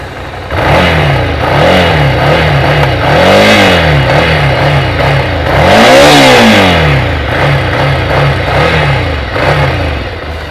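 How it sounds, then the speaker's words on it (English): A BS6-compliant Ducati Scrambler Icon motorcycle engine and exhaust revved repeatedly up and down from idle, loud and close, with steady rising and falling pulses and no talking. "Let's hear the sound of the motorcycle."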